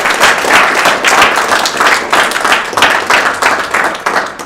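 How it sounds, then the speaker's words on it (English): An audience at a school student-of-the-month presentation gives a loud, sustained round of applause for students, with dense clapping that swells and fades in waves. "another round of applause for our students"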